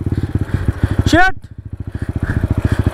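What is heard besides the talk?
Crossfire motorcycle engine on rough trail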